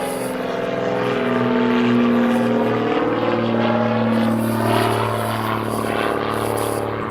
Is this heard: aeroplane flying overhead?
yes